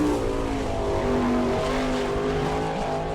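A 410 sprint car accelerates onto its first qualifying lap at Attica, Ohio, during an All Star Circuit of Champions race, its engine a loud, steady, high-pitched roar with shifting revs throughout.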